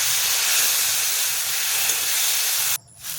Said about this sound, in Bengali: শাকগুলোকে ভালো করে নাড়াচাড়া করে নেব।